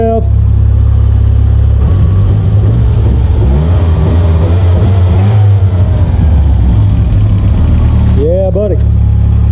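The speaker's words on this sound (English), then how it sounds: "Good old tractor engine, so to speak. Give it a little rev." A Volvo car's turbocharged engine, likened to a tractor motor, idles loudly up close, then gets a quick rev that rises and falls near the end, with heavy low rumble throughout.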